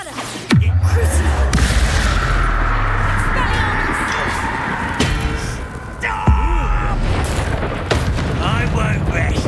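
Two heavy Bombarda blasting-spell explosions from the video game Hogwarts Legacy, one booming early and another about six seconds later, each a loud low thud over a dense, continuous battle din, with in-game voices talking throughout.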